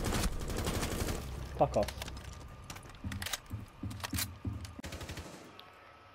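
Rapid bursts of automatic gunfire in the video game Rainbow Six Siege, several clattering volleys with short gaps and a few sharp single shots, with a man swearing over it.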